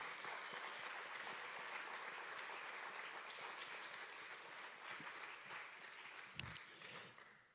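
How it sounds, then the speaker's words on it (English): Audience applause for graduates on stage at a summer credit graduation ceremony, a steady, distant wash of clapping that holds for several seconds before tapering off, with a brief knock near the end. "let's just please give another big round of applause to everyone on stage and everyone that worked hard to make this happen."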